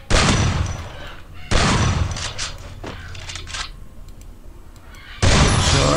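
Loud bursts of gunfire from a shooting video game during a headshot attempt: a rapid volley, a second burst, then another close, loud burst at the end, with brief pauses of game ambience between.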